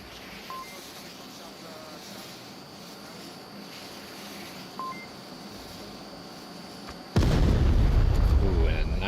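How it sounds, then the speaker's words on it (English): A frag grenade in the VR shooter Onward goes off as a sudden, loud, close blast that swells into a broad rumbling roar and fills the last two seconds, following a stretch of quiet match ambience. "Nicely tossed frag by Wookie."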